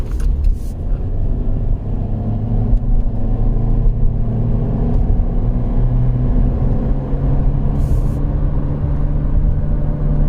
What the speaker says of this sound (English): We're going to accelerate.